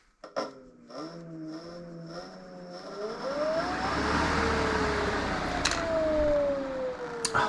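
A modified Parkside cordless 40V mower motor powered from e-bike batteries through a throttle controller, whining up in pitch as it spins faster, then a steady close hum and rushing whir with a couple of sharp clicks.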